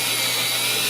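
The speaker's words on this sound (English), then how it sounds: "We can drill the screws back into the existing holes." A power drill drives screws back into existing holes on a screen tube, giving one continuous, loud, close whir with no talk.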